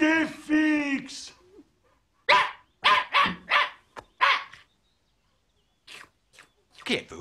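Small cartoon dog in an Asterix animated film barks in several short, sharp bursts close up, with a spoken voice at the start and gaps of silence between the yaps.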